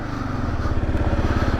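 Kawasaki KLR 650 motorcycle (2024) pulling up a steep off-road hill in first gear, its single-cylinder engine chugging in a steady, loud, close low thump with no talk over it.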